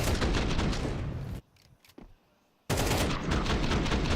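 Gunshots in a video game match replay, dense rapid firing that cuts out for about a second with a few faint shots, then resumes just as loud and continuous.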